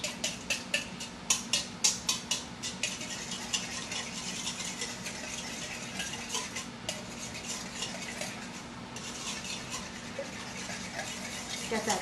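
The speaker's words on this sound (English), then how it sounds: "8 eggs that I've cracked with a couple tablespoons of milk, and I am just going to whisk this up" A whisk beats eight eggs with a little milk in a bowl for a frittata, a fast, steady metallic clatter that runs close and loud throughout, with rhythmic taps strongest at the start.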